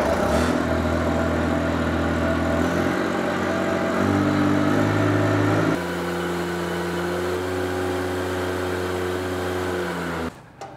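A Ventrac stump grinder's engine idles steadily with a low, even hum, shifting pitch a few times and settling lower before stopping near the end.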